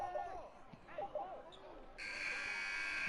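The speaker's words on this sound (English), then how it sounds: "Final buzzer sounds, and that'll do it." Final buzzer in the basketball video game NBA 2K21 at a high school game: a long, loud, steady electronic buzz cuts in near the end, following sneaker squeaks and faint arena noise.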